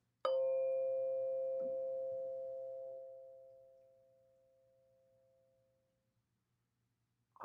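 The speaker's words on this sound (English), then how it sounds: "we'll close practice as we always do with the sound of the bell" A mindfulness bell struck once, ringing out a clear sustained tone that slowly fades away over several seconds in a quiet room.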